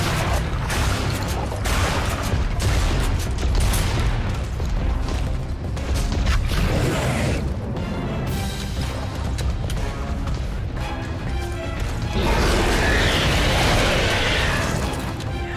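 Loud, dense gunfire bursts and booming explosions fill a boss fight against the King Crab in Lost Planet 3 on PS3, with heavy mechanical thuds and crashes continuing throughout.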